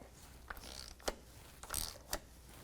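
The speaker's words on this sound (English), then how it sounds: "Then you put the socket on and you turn it to counterclockwise." A socket wrench ratchets counterclockwise on the oil filter housing of a 2001-2007 Volvo V70, with several short, sharp metallic clicks spaced irregularly over a quiet background.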